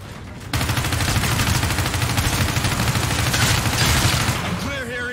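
Gunfire in the video game Call of Duty: Infinite Warfare, heard as a dense, continuous roar of rapid shots that starts abruptly and holds loud throughout, with a voice briefly audible near the end.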